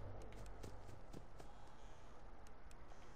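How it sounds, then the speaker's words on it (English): Footsteps in a video game, a quick run of soft, evenly spaced steps heard against a constant low ambient background, fairly quiet and without talk. "Dude, I hear footsteps to the right ear."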